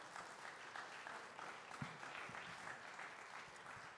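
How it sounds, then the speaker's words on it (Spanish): A church congregation claps during a Spanish-language sermon, a steady faint wash of applause heard at a distance with a few sharper claps, and no voices on top. "sí, aplauda al Señor."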